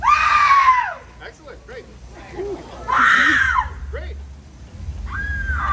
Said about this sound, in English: Could we please hear a shriek or a scream?